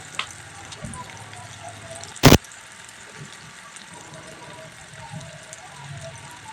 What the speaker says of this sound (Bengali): আদা রসুন কুচিটা দিয়ে দিলাম নাড়াচাড়া করে নেব ভালো করে